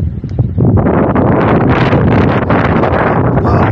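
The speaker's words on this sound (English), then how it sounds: "Wow, the wind's getting up now." Stormy wind roars at a canal basin, buffeting the microphone with loud, continuous gusts that swell and rumble close up.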